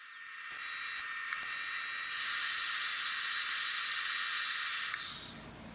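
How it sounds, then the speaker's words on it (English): Stitch welding on turbo headers in a garage build: a steady, loud hiss and whine runs through, rising in intensity partway and holding before cutting out near the end, with no talking. "Just zipping through this real quick, showing the rest of the stitch welds."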